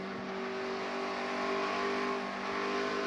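NASCAR Camping World Truck Series trucks racing at Rockingham produce a sustained, steady engine drone with a high whine, heard at a distance and without any talk.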